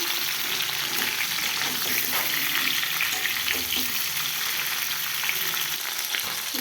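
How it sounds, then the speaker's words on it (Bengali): Mango pieces simmer and fry in a pan for sweet mango pickle, a steady dense sizzle with soft stirring scrapes throughout, close and continuous. "এবার আমগুলো দিয়ে দেবো। হালকা হালকা করে একটু জাল দেবো,"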